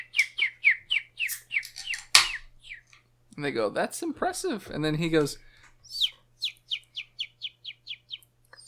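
A person whistles rapid chirping bird calls in repeated bursts, with a stretch of talking in between; the voice imitates a bird.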